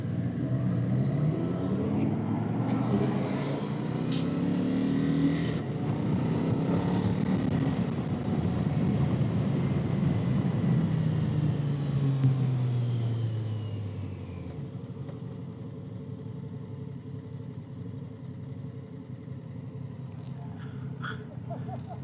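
An Indian Sport Scout Limited motorcycle cruises on the highway, its engine and wind roar steady and loud before easing to a quieter hum partway through, with no talk.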